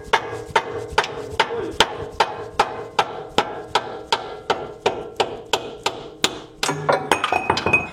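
A pry bar is struck again and again to pop a suspension cup out from under a car. The blows are sharp, steady and metallic, about two per second, close by and loud, with a brief faster clatter near the end.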